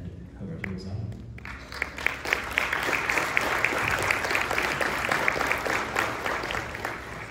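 An audience claps for the vice president candidates, dense applause building after a quiet opening and holding steady, with a speaking voice briefly over it at the start.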